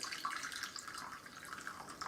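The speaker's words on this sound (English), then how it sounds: "So I'll add some water just to make sure it's got some juice" Boiled water poured from a kettle into a cooking pot of chicken, a faint, steady trickling splash lasting a couple of seconds with no talk over it.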